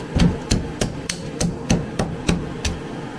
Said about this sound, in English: I can't find my hammer, so I'm using an axe, but same thing. Catch it, but use the back of it